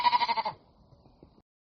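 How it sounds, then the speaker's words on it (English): A farm sheep gives one loud, wavering bleat lasting about half a second, then only faint rustling and quiet knocks follow. "This is a sheep. Sheep go."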